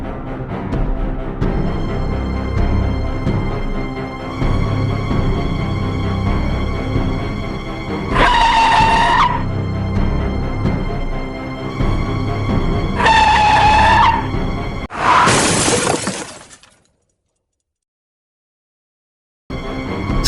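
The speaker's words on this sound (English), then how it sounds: "The tires screeched against the gravel road, and Lydia felt the world spin around her as" Car tires screech and skid across a gravel road as the vehicle careens off a curve, with loud, sustained squeals rising over a rumbling engine in repeated bursts before cutting to brief silence.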